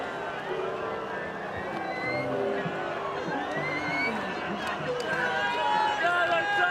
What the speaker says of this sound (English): They are still cheering here at Leichhardt.